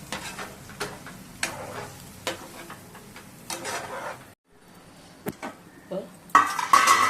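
Egg and rice mixture for kodiguddu porutu being stirred in a pan, with a spoon scraping and clinking against the metal in irregular strokes, a brief pause, then a brisker, louder burst of scraping near the end.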